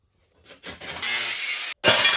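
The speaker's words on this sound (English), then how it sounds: "rough up the new blade and it'll cut way better" A cordless saw fitted with a new blade cuts through wood, starting with a few short bursts before a sustained loud cut, then a brief pause and a second burst, close by.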